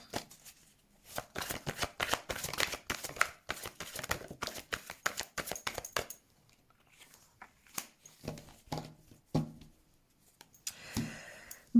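Tarot cards being shuffled by hand, a dense run of rapid riffling and slapping for about six seconds, then sparser separate card snaps and taps, close and clear with no talking.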